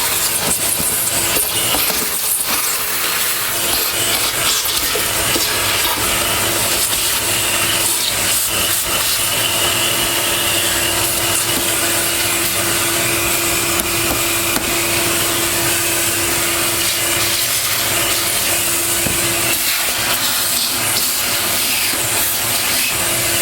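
A Miele S5211 vacuum cleaner running steadily, a loud continuous hissing whine and airflow roar that holds unbroken from start to finish, with no voices.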